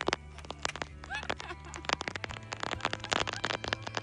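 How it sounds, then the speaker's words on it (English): Steady rain patters and splashes all around, with dense, irregular droplet hits and a low rumble underneath. "It's really raining."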